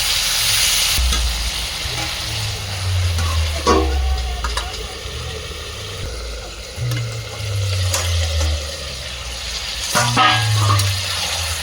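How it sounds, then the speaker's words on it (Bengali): Ginger-garlic paste being fried and stirred into mutton curry, with a loud continuous sizzle and bubbling, spoon scrapes, and low rumbling surges that come and go. "এর মধ্যে দিয়ে দিচ্ছি আদা রসুনের বাটা এই আদা রসুন বাটা দিয়ে আবার কিছুক্ষণ কোথাতে থাকবো"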